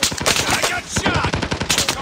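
Rapid automatic gunfire rattles in the Call of Duty video game, a dense close burst of shots in quick rhythm with a brief pause midway, loud and sharp.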